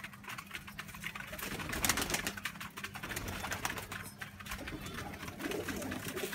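Pigeons in a loft eat mixed grain: quick, dense pecking clicks and rustles sound close by, with soft cooing mixed in, and no clear talk.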